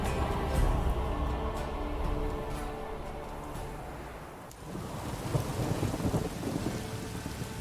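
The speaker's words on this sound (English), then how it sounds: "Must be mad running around in this rain." Rain pours and thunder rumbles in The Witcher 3: Wild Hunt. A low rolling rumble and a steady hiss of rain continue throughout, with a brief dip before the storm swells again.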